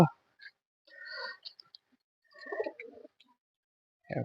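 A male domestic pigeon in a loft coos in soft, short, separate phrases. The calls are quiet and close, with near silence between them.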